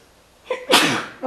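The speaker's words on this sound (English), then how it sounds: "I had to sneeze there." A single loud, close sneeze, with a short sharp intake of breath and then a forceful burst that tails off. It breaks into an otherwise quiet moment during casual vlog chatter about mower work.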